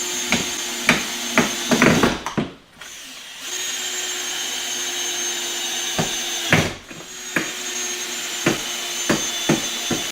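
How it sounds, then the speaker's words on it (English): A power drill whines steadily at high speed, nearby and loud, drilling mounting holes in a DIY boat seat tool holder, spinning down twice in brief pauses, with sharp clicks and knocks breaking in now and then. "So now I just got to drill some holes in the back, screw it in place."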